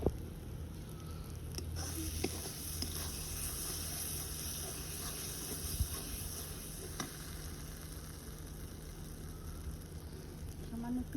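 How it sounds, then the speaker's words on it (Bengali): Mustard spice paste with a splash of water sizzles and fries in a pan for a shrimp curry, with a steady soft crackle and occasional stirring scrapes, quiet and close. "আর মশলাটা কষানো হচ্ছে"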